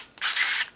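A single quick mechanical snap and whir from a Minolta Maxxum 5000 autofocus SLR film camera, its repaired shutter firing once, short and fairly faint against a quiet background.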